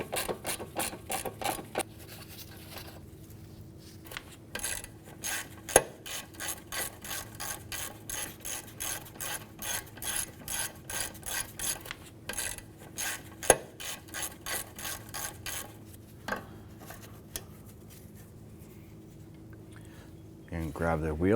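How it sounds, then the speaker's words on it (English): A ratchet with a 10mm socket backs off the nuts on an ABS wire bracket of a 2004-2008 Acura TL. Close, rapid pawl clicking runs in repeated bursts, with a few sharper knocks between them. "10mm socket, we're going to remove our nuts that are securing our ABS wire here"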